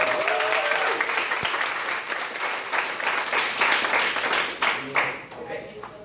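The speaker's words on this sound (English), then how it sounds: "Can we give Ellis an extra round of applause?" Conference audience applauding a speaker, loud sustained clapping from a crowd that swells and then gradually thins, with a voice briefly heard over it.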